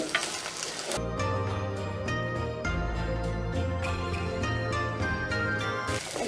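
Food sizzles and fries in a pan while being stirred in a village kitchen in Jaffna; a steady, close frying hiss with occasional scraping continues throughout without speech.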